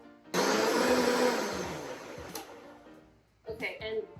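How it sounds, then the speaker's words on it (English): Blender roughly pureeing coarsely diced ingredients in a home kitchen, a loud steady whir for about two seconds that winds down, followed by a brief second pulse. "To start, I'm gonna blend up, this is just like totally roughly diced."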